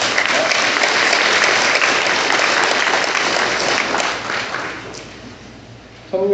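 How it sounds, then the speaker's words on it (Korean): Congregation at a Catholic Mass giving loud, sustained applause that fills the space evenly, then thins and fades toward the end before a short new sound cuts in. "본당의 날을 축하해 주기 위해서 큰 박수로 환영의 행사를 부탁드립니다."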